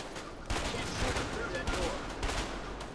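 Gunfire aimed at the player in the video game A Way Out, rapid overlapping shots in bursts over steady background noise, with a voice talking through it.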